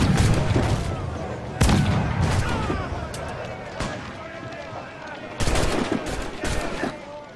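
Cannon blasts in Assassin's Creed IV ring out as sharp booming bursts, several spaced across the stretch, some loud and close, others fainter amid a busy game soundscape with someone talking over it.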